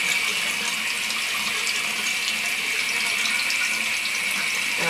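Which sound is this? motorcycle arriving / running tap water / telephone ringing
running tap water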